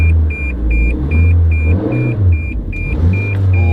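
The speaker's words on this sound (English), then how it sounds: "Put her in reverse. This is a 6-speed transmission." A car with a 6-speed transmission strains in reverse while its engine revs and surges, and a steady reverse warning beep repeats in a regular rhythm over the rumble.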